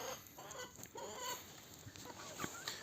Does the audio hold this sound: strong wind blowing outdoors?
no